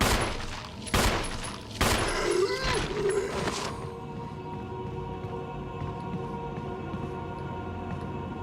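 Gunfire in the survival horror game Resident Evil 1, a few loud, sharp shots in quick succession at the start, each with a ringing tail, then fading into a low ambient hum.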